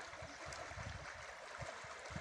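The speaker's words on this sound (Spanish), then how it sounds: "el agua corriendo majestuosa en esa parte, el musgo incrustado en las rocas" River water running over moss-covered rocks along a bend of the stream in Oaxaca's Mixteca, a steady soft rush with low gurgling pulses, fairly close and moderately quiet, with no voices.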